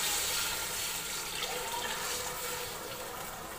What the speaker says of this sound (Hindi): अभी मैं इसमें पानी शामिल करूंगा